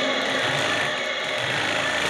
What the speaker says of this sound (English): Now you can rev the engine.